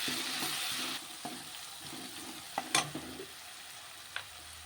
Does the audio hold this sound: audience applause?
no